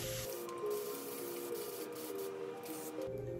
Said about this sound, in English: So let's spritz this part with water this time and see.